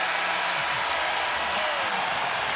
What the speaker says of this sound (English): they're cheering for their Mavericks as well